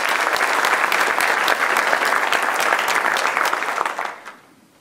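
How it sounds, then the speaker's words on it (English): A crowd applauds steadily with dense clapping for about four seconds, then the applause fades out quickly. "Let's have a round of applause for our gold investors."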